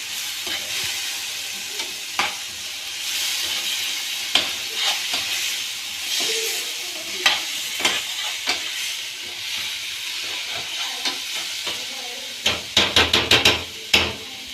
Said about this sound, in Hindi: अब हमने फ्राई पैन के अंदर आधा कप ऑयल डाला था और उसके अंदर 2 अदद प्याज चॉप करके उन्हें फ्राई करने के लिए रख दिया।